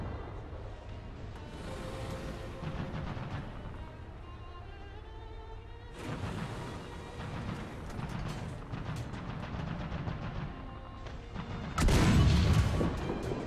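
Sturer Emil's 12.8 cm tank gun in War Thunder, heard as a few heavy booms spaced several seconds apart, the last one the loudest, over rumbling engine and battle noise.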